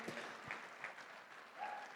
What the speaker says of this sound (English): Let's give Dan a big round of applause for this really unique opportunity